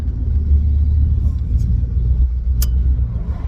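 Steady low cabin rumble of a 1963 Oldsmobile F-85 cruising smoothly and quietly, a soft continuous drone with a brief click partway through.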